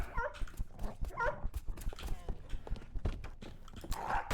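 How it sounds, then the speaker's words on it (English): Dog barks and whimpers voiced by a dog character in the stealth video game Filcher, coming in short bursts near the start and around one second, mixed with footsteps and game noises. "this guy, for whatever reason, has dog sounds"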